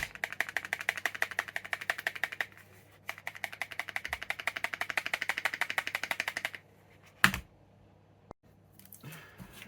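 Rapid metallic rattling from a Fallkniven S1x knife shaking loose in its sheath, in two long bursts of fast clicks, followed by a few isolated knocks and handling sounds.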